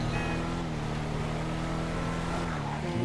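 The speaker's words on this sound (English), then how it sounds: "Yeah, I'm driving a pickup truck." A pickup truck driving in GTA 5, heard as a steady, continuous engine drone with a slight rise in pitch near the end, loud and constant with no talk over it.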